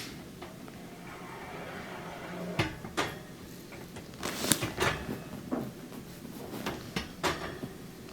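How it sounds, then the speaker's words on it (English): Metal racks of a Thermador oven are slid back into place, producing a series of scattered clanks, scrapes and knocks of moderate loudness over a low room background. "Then I'll put the racks back in, we'll slide them in."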